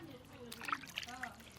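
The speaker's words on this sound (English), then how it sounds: "That is how we wash our chicken the Nubian way." Water splashes and trickles over raw chicken being rinsed by hand in a Nubian kitchen, with soft sloshing bursts under quiet talk.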